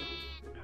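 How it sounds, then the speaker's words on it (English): A baby sheep in the Minecraft video game gives one short, faint bleat with a wavering tone, under a steady low background hum. "Baby sheep."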